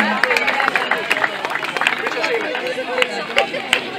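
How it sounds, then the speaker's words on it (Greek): A crowd at a marathon swimming medal ceremony claps in dense, continuous applause, with a voice over a speaker system talking on top of it. "ένα χειροκρότημα"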